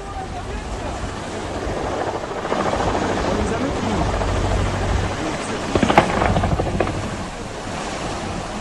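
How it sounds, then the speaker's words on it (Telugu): A Russian military K-226 helicopter circles over the sea, heard as a continuous low, rough rotor drone mixed with wind buffeting and surf-like noise, with a brief louder swell near the end. "కూలిపోవడానికి ముందు సముద్రం పైన హెలికాప్టర్ చక్కర్లు కొడుతున్న దృశ్యాలు చూస్తున్నాము."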